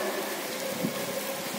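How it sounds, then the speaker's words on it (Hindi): The first monsoon rain of the season falls in a steady, soft hiss of drizzle outdoors, an even wash of patter that stays faint and continuous without voices. "मौसम की पहली बारिश शुरू हो गई है"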